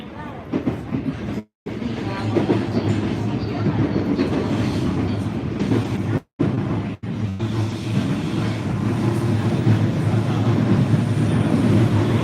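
A train running on rails rumbles loud and steady from inside a carriage, with continuous low wheel noise and clatter broken by two brief dropouts.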